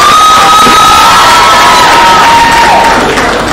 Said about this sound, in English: please a round of applause for Igbo Mary with